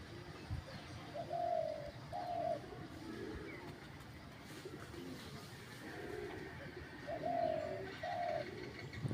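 A decoy hunting dove set up in a tree coos in two short pairs, one near the start and one near the end, moderately faint over an outdoor background.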